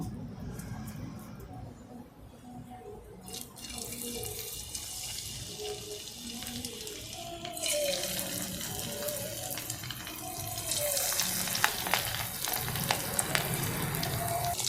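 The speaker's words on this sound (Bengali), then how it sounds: "তেল গরম হয়ে গেছে, এবার একটা একটা করে ভেজে নেব।" Chicken pieces for chilli chicken sizzle and crackle in hot white oil, a steady frying hiss that grows louder and denser halfway through, with a few faint clinks.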